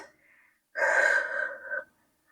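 A single sharp, audible breath drawn in during a guided movement exercise, close and clear, lasting about a second after a faint earlier breath, with no talking over it.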